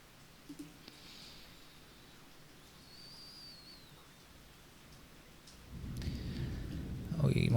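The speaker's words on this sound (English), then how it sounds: "Oh, you might hear the thunder as well." A rainstorm with thunder: a faint, steady rain hiss, then a low rolling rumble that swells over the last couple of seconds.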